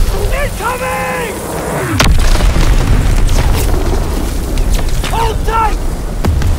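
Incoming artillery shell explosions in the World War II shooter Call of Duty: WWII, a heavy close boom followed by sustained rumbling blasts, with shouted voices and whistling tones around it.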